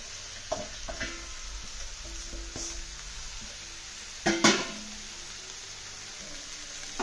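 A spatula stirs fried rice with prawns in a hot pan over a steady sizzle, with scattered light scrapes and a couple of louder clanks against the pan.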